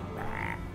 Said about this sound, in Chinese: 青蛙